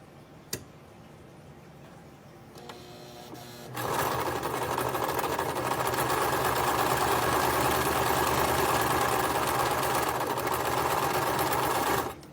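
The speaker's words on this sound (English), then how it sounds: "I'm going to stitch that, okay?" A sewing machine stitches across the nose area of a fabric face mask, its motor whirring steadily and loudly for most of the clip after a quiet start with a few faint ticks.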